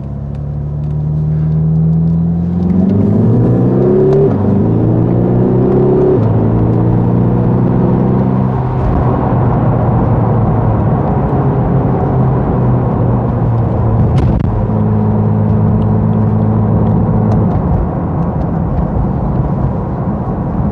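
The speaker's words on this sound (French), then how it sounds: "Donc on a vraiment du frein moteur." A 2014 Lexus IS 300h F-Sport hybrid engine brakes as paddle shifters select lower gears. The loud, steady engine drone steps up in pitch in several distinct shifts, then holds a high whirring tone under constant road rumble.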